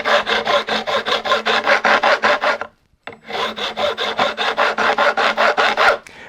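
Steady back-and-forth rasping of a file beveling guitar fret ends on a neck-through guitar, an even rhythmic series of strokes up close, then a short pause and another run of strokes.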